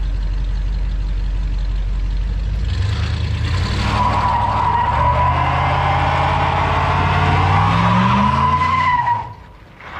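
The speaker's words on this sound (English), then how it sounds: "Here's a redemption burnout I did after I tried one on my first video." A 1979 Dodge Lil Red Express truck with a tuned carburetor does a tire burnout: the engine rumbles, then revs hard as a loud, sustained tire squeal rises over it for several seconds before cutting off abruptly.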